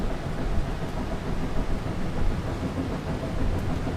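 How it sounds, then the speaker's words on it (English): A train in the video game Pathologic 2 sounds as a continuous low, rumbling roar with a gritty rolling texture, steady and moderately quiet throughout. "Why am I hearing a train?"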